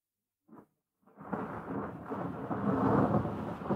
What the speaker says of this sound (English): Yesterday was rainy.